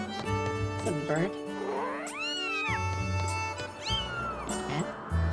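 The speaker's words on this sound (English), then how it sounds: "It mews like a cat." A strange creature in the game Zelda: Skyward Sword gives repeated cat-like mews, rising and falling wails over steady game music, with a pause between calls.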